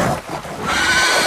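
A horse in Game of Thrones whinnies in a short, strained neigh that rises in pitch, heard fairly close, with no talk over it.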